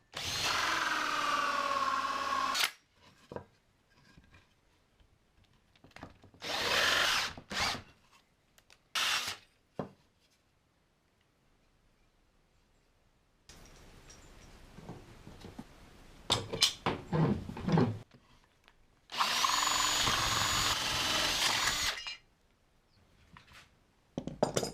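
A power drill bores a hole in a jar lid in several separate bursts of grinding, some long and some short, with quiet scraping and handling sounds in between.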